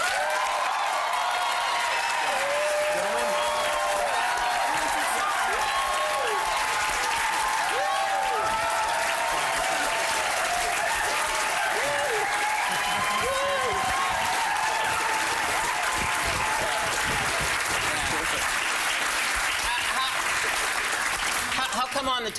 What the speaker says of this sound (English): How come on the teleprompter it said fake applause?